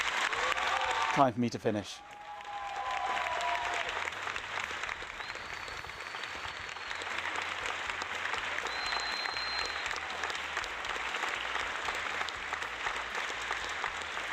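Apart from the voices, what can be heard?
audience applause at end of talk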